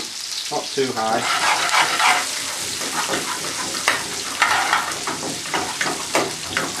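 Chopped onion fries on medium heat in a pan for Bombay potatoes, giving a loud, steady close sizzle with stirring scrapes while a voice talks over it.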